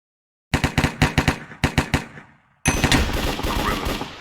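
M4 rifle gunfire in a video game comes as two loud, close bursts of rapid shots, each followed by a decaying echo. A denser, sustained volley of fire follows, with no speech.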